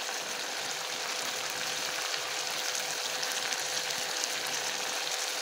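Spiced rooster meat with chili, coriander, cumin and turmeric sautés in a pan, giving a steady, close, broadband sizzle with soft bubbling pops and no voices.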